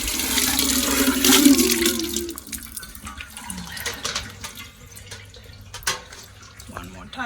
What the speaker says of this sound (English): Next step, it will be flushing the mouth so I can see.